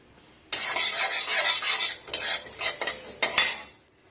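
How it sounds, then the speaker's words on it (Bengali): Panch phoron five-spice seeds are dry-roasted in an empty kadai on a gas flame, heard as a busy stretch of scraping and rattling stirring against the pan that stops after about three seconds. "এবার এই 5 ফোড়ন থেকে অর্ধেকটা আমি শুকনো খোলায় দিয়ে ভেজে নেব।"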